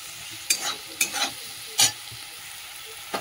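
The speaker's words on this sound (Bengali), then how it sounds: "দিয়ে এবার একটু চাপা দিয়ে একটুখানি ভেজে নেবো।" Carrots and potatoes frying in oil with salt and turmeric give a steady soft sizzle, broken by a few sharp scraping stirs of a spatula in the pan, close by with no talking.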